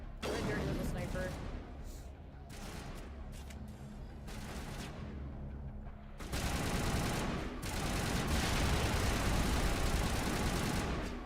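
Loud video game gunfire fills the whole stretch in rapid, overlapping bursts and fusillades, growing denser and heavier partway through, with a voice talking over the shooting.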